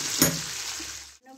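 A short burst of hot oil sizzling as pabda fish pieces fry lightly in a pan, with a sharp crackle near the start, then a steady hiss that cuts off abruptly.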